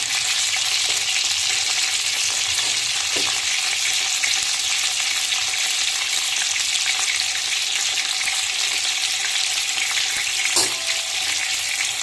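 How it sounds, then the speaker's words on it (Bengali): Pointed gourd pieces sizzle steadily in hot oil, a dense continuous crackle and hiss, with an occasional faint clink of a utensil. "তেলটা গরম হয়ে গেছে, পটলগুলো ছেড়ে দেবো।"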